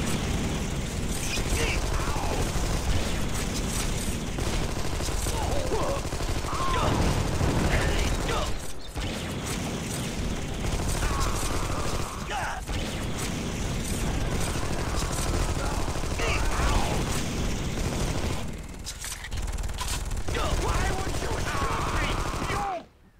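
Continuous gunfire and mechanical clatter from the action game Armed & Dangerous fill the scene, loud and dense throughout with a voice talking intermittently underneath, before cutting off abruptly at the end.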